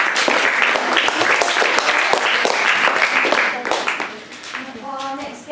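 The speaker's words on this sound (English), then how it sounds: "Let me hear the clap." A theatre audience at a school drama performance claps together in a loud, dense burst of applause that holds steady and then thins and fades toward the end, as a voice briefly speaks.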